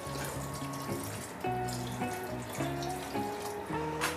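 Steady water runs and splashes into a cooking pot of pork, fairly quiet, with a melodic background tune playing over it.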